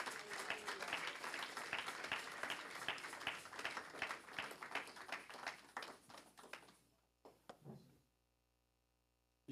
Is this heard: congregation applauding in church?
yes